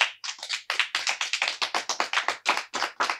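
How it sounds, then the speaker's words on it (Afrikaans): A studio audience on a South African television show claps rapidly together, sharp and loud from nearby, in quick, slightly uneven bursts of applause with no talk over it. "toe begin hulle hande te klap"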